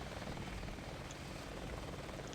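Helicopter in the Battlefield V game on the Hastings map, a steady broadband rotor-and-engine wash that stays constant and fairly faint from start to end, with no talk over it.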